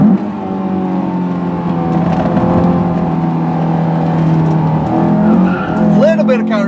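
Tires squeal as a Honda S2000 AP1 slides, sustained and close, over a revving engine, while someone talks over the noise.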